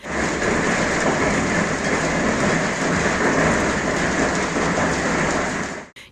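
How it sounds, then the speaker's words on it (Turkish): A steady, heavy roar of walnut-sized hail pounding down without pause, with low thunder rumbling underneath throughout. "Adıyaman'da yaklaşık 10 dakika etkili olan dolu yağışı hayatı felç etti"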